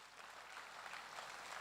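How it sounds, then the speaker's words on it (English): An audience at an evening tribute event claps in a steady, even round of applause, faint and distant. "a round of applause for this woman"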